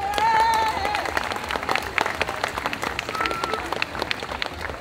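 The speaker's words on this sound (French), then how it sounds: "Je vous demande d'applaudir Camélia." Audience applause at a cosplay contest, sustained crowd clapping with scattered sharp claps and a faint cheer, steady and fairly close throughout.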